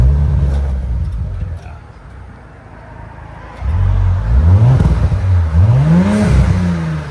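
A 2018 Audi S5 with a 3.0L turbocharged V6 and its resonator deleted for straight pipe: a low idle, then a series of sharp exhaust revs that rise and fall, loud and close.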